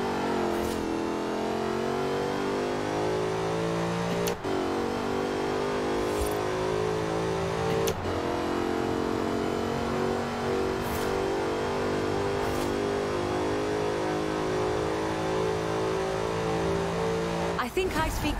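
A Jaguar Project 7 drives in Forza Horizon 4, its engine note climbing steadily through the revs with sharp drops at each gear change, loud and continuous under a voice talking.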